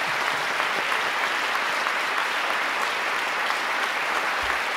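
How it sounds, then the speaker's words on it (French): Sustained applause from a large audience at a music conservatory recital, a dense, even roar of clapping hands that continues steadily throughout without breaks. "Je voudrais les applaudir très très fort."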